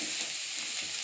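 Boiled eggs frying in a little oil with salt and turmeric in a wok, a brief, even, hissing sizzle close by with no talk.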